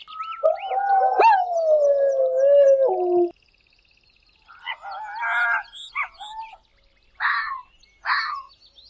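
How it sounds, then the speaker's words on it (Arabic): A wolf howls in a long, loud, wavering cry that falls away at its end, followed after a brief silence by several shorter, sharper animal calls from a jungle setting. "ذئب"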